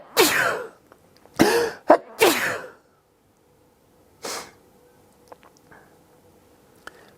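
A person sneezes several times in a row, sharp close bursts in a quiet room during a knife unboxing, followed by a softer sneeze or sniff a couple of seconds later.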